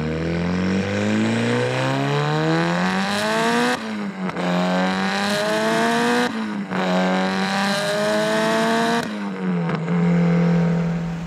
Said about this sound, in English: Nothing better than a wide open throttle when it comes to a Tomei.